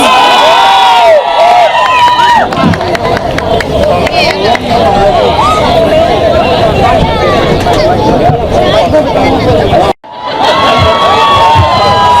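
Loud crowd cheering and shouting at a Thadou Kuki Inpi Kut festival event, a dense roar of excited voices with high screams, sustained throughout before a brief drop and rising again.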